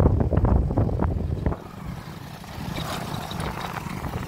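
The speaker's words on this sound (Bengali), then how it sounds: "আমরা তিনজন একটা বাইকে যাচ্ছি, আর পিছনে তিনজন আসছে বাইকে।" Low engine rumble with wind noise from a moving motorcycle carrying three riders through a sal forest, steady and close.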